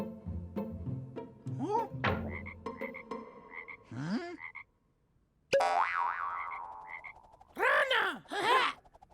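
Frog croaks ring out in a loud, close series of deep, rhythmic calls, broken by a brief silence before more croaking with bouncy, twanging tones.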